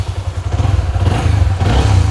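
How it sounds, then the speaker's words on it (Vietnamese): Sonic motorcycle with a CNC camshaft, engine running after start-up: loud, close, throbbing low exhaust rumble with a rapid steady pulse and slight revving swells, no talking. "Em nổ máy con cho anh chị rồi. Nghe nè."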